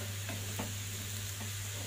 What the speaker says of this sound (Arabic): اقلب الكلام ده كله على بعضه وتستوي